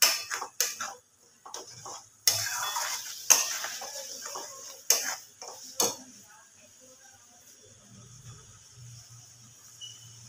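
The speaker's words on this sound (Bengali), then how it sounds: "গ্যাসের ফ্লেমটা একটু বাড়িয়ে নিয়ে মশলাটাকে আরও একটু ভালো করে কষিয়ে নেব" Spice paste for white egg curry is stir-fried hard over a raised gas flame, with loud metal spatula scrapes and clanks against the pan in bursts that give way to a quieter sizzle.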